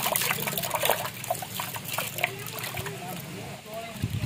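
Water sloshes and splashes as rice is rubbed and washed by hand in a vessel while cooking a shared communal meal, a steady wet churning heard close under ongoing talk.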